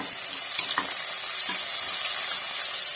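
Chopped tomato hits a hot frying pan and sizzles loudly in a close, continuous hiss, with a few sharper pops and stirring scrapes breaking through the steady frying noise.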